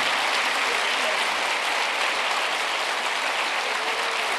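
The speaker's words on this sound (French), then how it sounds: "Merci de les applaudir." Sustained applause from an audience at a community conference gathering in Chalon-sur-Saône, dense continuous clapping with no pauses.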